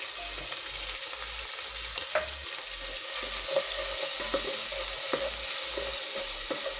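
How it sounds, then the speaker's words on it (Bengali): Spices with red chili powder fry in a pan for chicken korma, giving a continuous sizzle broken by repeated light scrapes and clinks of a stirring spoon at an even, unhurried pace. "এখন খুব সুন্দর করে কষিয়ে নিচ্ছি"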